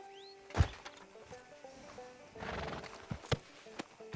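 Horse hooves clip-clop and a horse whinnies in the video game Red Dead Redemption 2, sharp hoof thuds with a neigh early on, heard fairly quietly against game ambience.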